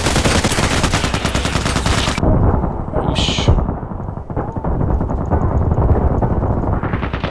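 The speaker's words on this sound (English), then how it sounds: "Just see 100 shots here flying around." Dense, loud gunfire fills a firefight in the online shooter Contract Wars, with rapid automatic bursts nearly continuous throughout, a short higher crack midway, and speech-like sounds mixed into the din.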